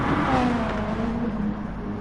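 BMW Z4 race car engine in a Nukeshot Motorsports endurance race at Lago Maggiore, a loud, steady droning growl held at high revs with a slight pitch sag over two seconds.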